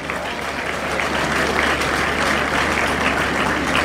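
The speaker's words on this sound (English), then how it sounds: "I thought you would clap for that." An audience at a university inaugural lecture for a newly installed professor claps in steady, sustained applause that fills the room for several seconds.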